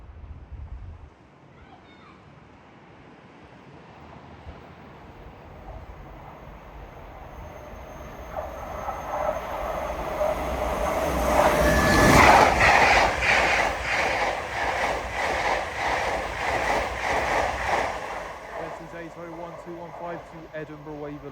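An LNER Azuma train on the East Coast Main Line at Alexandra Palace, bound from London King's Cross to Edinburgh, approaches and swells to a loud, close rushing roar with rhythmic wheel clatter, then holds and begins easing.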